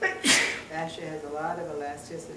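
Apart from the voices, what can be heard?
sneeze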